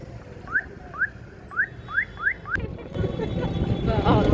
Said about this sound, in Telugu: మళ్ళీ దీని హారన్ కూడా డిఫరెంట్‌గా ఉంటదండి.